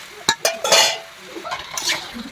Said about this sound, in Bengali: দিয়ে একটু ভালো করে এটাকে নাড়াচাড়া করে নেব